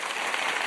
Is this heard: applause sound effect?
yes